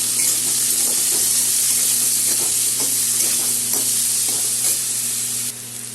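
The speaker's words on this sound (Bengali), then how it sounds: "আলু আমার ভাজা হয়ে গেছে" Potatoes sizzle and fry steadily in a pan with salt and turmeric, a loud continuous hiss with occasional scraping stirs, close up and with no talking.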